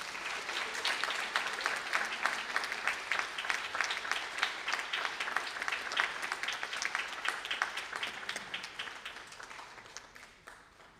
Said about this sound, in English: You can clap again, ladies and gentlemen.